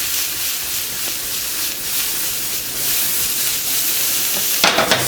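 Garlic and onion sizzle and fry in a pan, a dense, continuous hiss that holds steady throughout, with a brief sharper crackle near the end.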